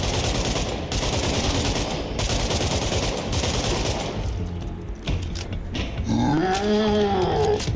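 Rapid automatic fire from an AKS Valentine rifle in the video game State of Decay 2, dense sustained bursts that break off, followed by growling creature sounds near the end.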